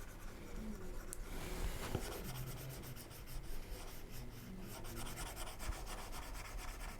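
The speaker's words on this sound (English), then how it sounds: "Please erase unwanted lines" An eraser rubs back and forth across pencil lines on paper, a quiet, close, dry scrubbing in irregular strokes with a brief sharper scrape early on.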